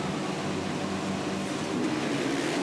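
Massed 450 motocross bikes sit revving at the starting gate on the Southwick, Massachusetts sand track, a loud, dense, continuous engine roar held steady with no break.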